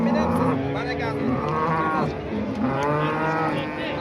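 Cattle at a busy livestock market in Samarkand low and moo repeatedly, several long drawn-out calls close by, with people talking and market bustle in the background.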